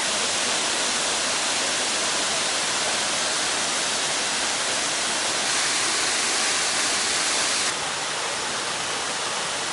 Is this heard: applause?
no